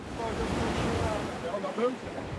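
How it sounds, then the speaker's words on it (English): Ocean waves breaking off the coast of Cape Verde, seen from a small boat, a continuous rough wash of surf mixed with wind buffeting on the microphone, steady and moderately loud throughout. "the waves are scary"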